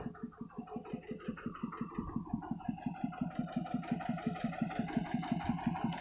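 A small single-cylinder walking tractor engine runs steadily nearby, its rapid, even thumping chugging along without pause.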